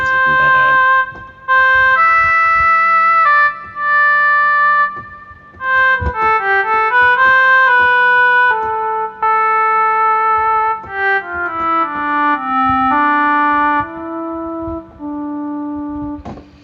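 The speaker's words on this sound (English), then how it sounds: "I find that I actually would rather use a synth sound like this." A warm synthesizer patch with a clarinet-like reedy tone plays a slow, sustained melody of held notes that bend and glide between pitches, loud and alone with no talking, for over fifteen seconds.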